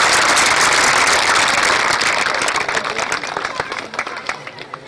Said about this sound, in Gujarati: તાળીઓથી ગડગડાટ.